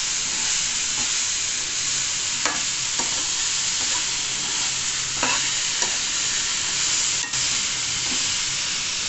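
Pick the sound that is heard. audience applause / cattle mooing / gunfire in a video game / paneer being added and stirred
paneer being added and stirred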